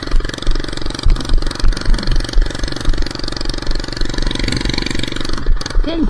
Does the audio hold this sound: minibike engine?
yes